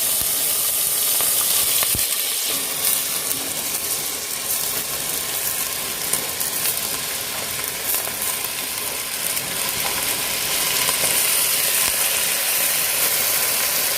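About 400 grams of soaked rice is sautéed in a pot as a fish biryani is made, giving a steady, even sizzle and rustle that runs throughout with a few faint scrapes of stirring and no talking.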